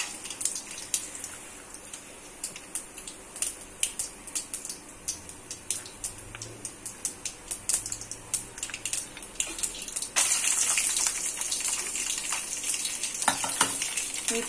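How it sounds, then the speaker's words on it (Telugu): Raw peanuts and mustard seeds fry in hot oil for lemon rice, giving sharp scattered crackles and pops over a low sizzle that swells into a denser, louder hiss near the end. "పచ్చి పల్లీలు తీసుకున్నాం కాబట్టి ఆవాలు హీట్ ఎక్కిన వెంటనే మనం పచ్చి పల్లీలు వేసుకోవాలి"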